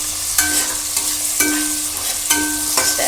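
Close, loud sizzling of food frying in oil in a home kitchen, stirred in regular scraping strokes that recur roughly every second over the continuous hiss.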